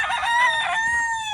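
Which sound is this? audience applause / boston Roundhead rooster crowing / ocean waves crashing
boston Roundhead rooster crowing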